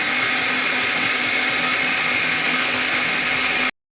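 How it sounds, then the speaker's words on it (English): A surface grinder finishing a small metal part for a pump oiler, a steady loud high-pitched whine with grinding hiss, continuous and close, cutting off abruptly at the end. "I finish it on the surface grinder so it doesn't feel left out."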